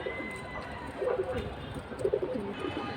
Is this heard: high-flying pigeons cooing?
yes